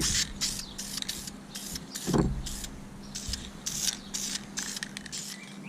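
VHT Wrinkle Plus paint sprayed from an aerosol can onto valve covers, a quick series of short hissing bursts with brief pauses between them and a faint rattle partway through.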